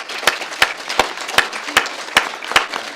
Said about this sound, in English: if you'd just like to give them a round of applause